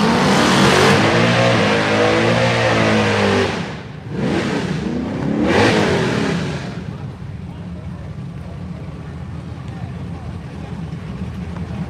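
Big tire race cars at a no-prep drag racing event, engines revving loudly in a couple of swelling bursts, then settling into a lower rumble, with an announcer talking over the start.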